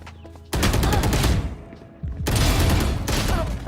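Rapid automatic gunfire from Valorant during a VCT APAC LCQ match between ONIC G and BOOM Esports arrives in two loud, dense bursts separated by a short lull. The shots are close and continuous, with no talking over them.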